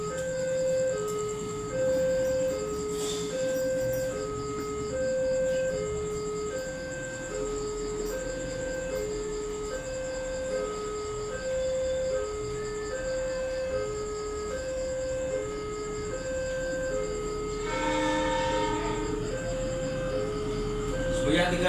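A railway level crossing signal at JPL-298 in Kediri, Indonesia, with the Malabar train approaching: a regular two-tone electronic bell pattern repeats steadily throughout, joined near the end by a brief louder tonal burst that may be the horn.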